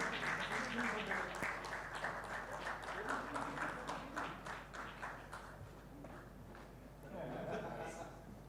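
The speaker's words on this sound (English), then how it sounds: "I think they deserve thunderous round of applause." Conference audience at a mobile content strategy event applauds a discussion panel, steady moderate clapping across the room that thins out near the end, with some voices mixed in.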